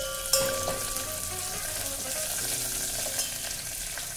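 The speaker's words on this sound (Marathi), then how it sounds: "आता आपल्याला छान परतून घ्यायचं आहे लसूण।" Garlic and curry leaves fry in a pan for a mixed vegetable bhaji, giving a constant crackling sizzle with a sharp clink near the start and light stirring throughout.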